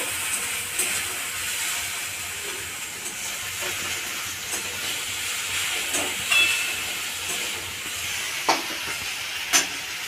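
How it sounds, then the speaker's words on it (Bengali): Drumstick leaves and slit green chillies fry in a pan with reddened garlic, a steady bright sizzle running throughout with a few sharp crackles and pops near the end, close and unaccompanied by talk. "এর মধ্যে এবার শাকটা দিয়ে দেবো। চেরা কাঁচা লঙ্কাটা দিয়ে দেব।"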